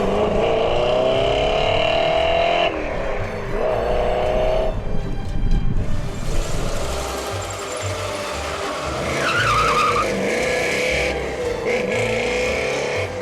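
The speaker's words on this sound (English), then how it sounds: "I'm just gonna drive it easy, kind of see what the car is gonna do." A Fox Body Mustang with a rebuilt junkyard transmission driven easily around a track, engine revving and shifting through gears with brief tire noise, passing close then receding, with faint talk beneath.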